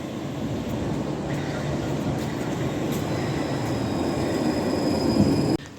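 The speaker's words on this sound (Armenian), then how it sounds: "տրամվայը" A tram pulls into a stop in the rain, a steady, loud rolling rumble with a wash of rain noise that builds slightly over several seconds before cutting off abruptly.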